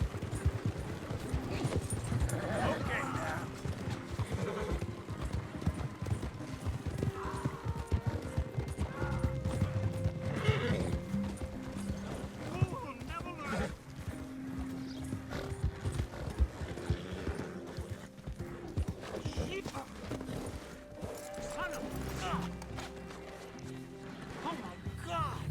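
Horse hooves clip-clop at a gallop in Red Dead Redemption 2, a fast rhythmic pounding with game music and ambience throughout, while someone talks over it for much of the time.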